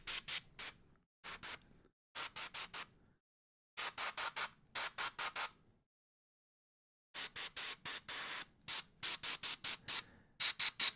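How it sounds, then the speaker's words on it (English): Airbrush spraying paint onto a vehicle: bursts of close hissing spray in short rhythmic pulses, grouped into clusters separated by silent pauses. "What brand of airbrush are you using, Jason?"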